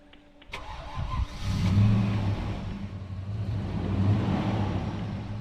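A Holden HSV Maloo R8 LSA ute's V8 cranks and fires up with a sharp click, then revs in deep rising surges before settling into a rumbling idle, loud and close.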